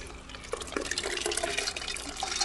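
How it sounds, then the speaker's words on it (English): Tap water runs steadily and fairly close while dal lentils are washed, a continuous splashing hiss with small drips and sloshes and no talking. "wash my dal"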